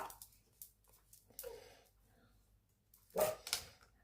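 A small dog barks faintly in the background of a quiet room, a few soft yips spread out, with one louder burst near the end.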